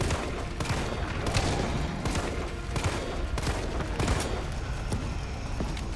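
Rapid, repeated gunfire in Resident Evil 3 aimed at a fuel tank, loud shots landing every half second or so in a steady, relentless barrage with booming low-end impacts.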